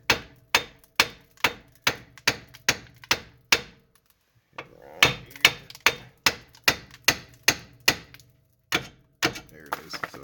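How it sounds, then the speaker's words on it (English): A small 4-pound sledgehammer mallet strikes a tie rod end on a 2005 Nissan Murano, giving sharp metallic blows in steady rhythmic runs, a brief pause, then more rapid hits, close and loud with no talking. "hit around here with a, it's like a little 4-pound sledgehammer mallet thing, and hopefully it'll pop this thing out"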